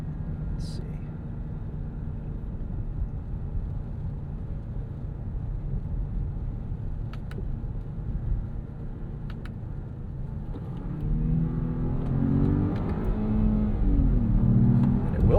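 A 2026 Jeep Grand Cherokee with the Hurricane turbo engine rumbles steadily from inside the cabin on a road, then its revs climb audibly over the last few seconds.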